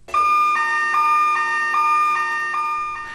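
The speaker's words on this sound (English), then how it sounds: "The skid mechanism sounds an alarm if the skids encounter an obstruction." A Snorkel S-series scissor lift sounds its skid obstruction alarm, a loud steady electronic tone pulsing in an even repeating pattern of about eight beats, close and continuous with no voices.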